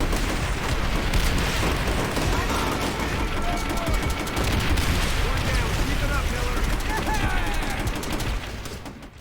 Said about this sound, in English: the constant loud gunfire and explosions really immerses you in this scene